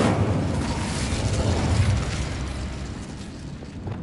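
Incendio fire spell cast in Hogwarts Legacy on PS5: a sustained, loud, roaring blast of flame that holds steady for about four seconds before easing slightly toward the end.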